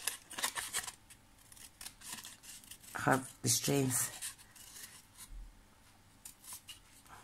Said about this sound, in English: I'm just going to have to use my scissors